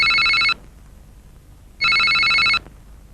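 A telephone rings in two loud, electronic bursts with a pause between them, and no talk is heard over the rings.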